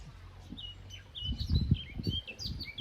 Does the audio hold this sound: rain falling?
no